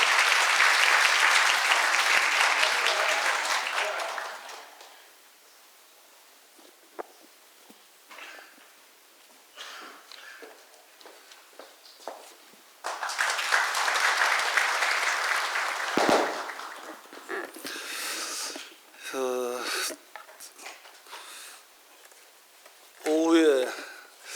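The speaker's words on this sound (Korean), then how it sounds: "힘찬 박수 부탁드립니다." An audience at a healthcare industry labor-management meeting breaks into loud applause for several seconds. Quieter talk follows, then a second burst of clapping, and more speech and room noise come after.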